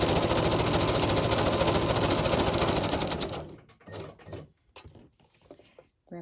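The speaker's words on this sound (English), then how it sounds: "Then here, what I'll do is I'll start stitching here." A sewing machine stitches a pocket onto a journal page in one fast, loud run for about three seconds, then stops, leaving quieter clicks and handling noises.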